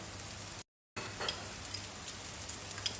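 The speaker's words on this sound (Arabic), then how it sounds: "هي قليت الثوم شوي. هلا راح احط البصل" Garlic and finely chopped onion frying in a pan: a steady, close, even sizzle with faint crackles that drops out briefly and then resumes, with no one talking.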